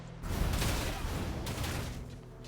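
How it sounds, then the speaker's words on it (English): Distant battle noise from Torchlight: Infinite, a video game: a rumbling wash of gunfire and fighting rises quickly, holds, then eases, with no talk. "I hear fighting ahead, partner"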